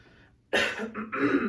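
A faint murmur gives way to a sudden loud, rough cough and throaty clearing close to the mic.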